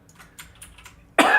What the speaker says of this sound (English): Sorry about that, there's that cough.